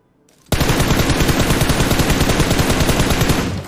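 Sustained automatic gunfire in the mobile battle royale PUBG Mobile erupts after a brief quiet moment and continues as a loud, rapid, unbroken stream of shots close by.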